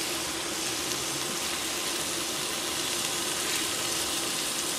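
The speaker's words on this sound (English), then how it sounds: "we're just going to cook this okra in this bacon fat for a good period of time because we want to cook off some of that slime" Okra frying in bacon fat in a pan, a steady, dense sizzle that holds evenly throughout without breaks, close and moderately loud with no voices.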